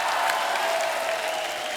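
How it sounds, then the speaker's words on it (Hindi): A studio audience claps for guests on a Hindi comedy talk show, dense and sustained applause filling the whole stretch, loud and close, with no voice over it. "जोरदार तालियां हमारे मेहमानों के लिए।"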